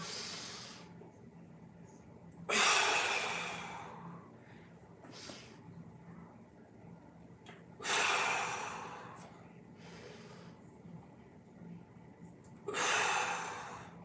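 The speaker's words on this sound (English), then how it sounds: "Big inhale, we got 4 more. Big inhale." Big breaths during a mobility exercise workout: three strong, close inhale-exhale cycles spaced several seconds apart, each a loud rushing breath with quieter breathing between.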